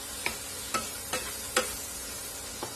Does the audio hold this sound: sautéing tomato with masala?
yes